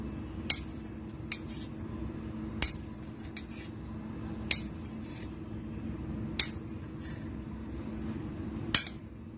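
A knife chops Korean luncheon meat into cubes on a wet cutting board, giving about six sharp, separate taps spread evenly over the stretch against a quiet background.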